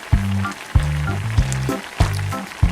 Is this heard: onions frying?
yes